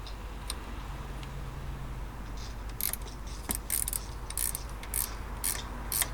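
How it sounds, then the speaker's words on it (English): A ratchet spanner clicks in short bursts while a motorcycle's gear change linkage is removed, sharp close ticks spaced over a quiet workshop background. "ratchet spanners. You only need a few to strip and build a bike."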